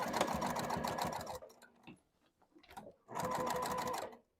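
A sewing machine stitches quilting lines through layered backpack panels in two loud, steady bursts of rapid stitching, split by a pause with soft handling noises.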